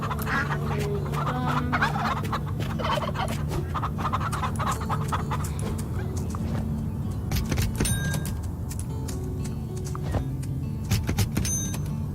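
Farm chickens in the video game Farm Together cluck and gobble in a busy, continuous barnyard ambience, mixed with clicking game sounds at a fairly low level.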